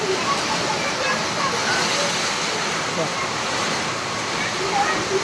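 Heavy rain pours down during a thunderstorm, with rainwater pooling across a field planted with okra; a dense, loud, steady rushing roar fills the whole stretch without a break.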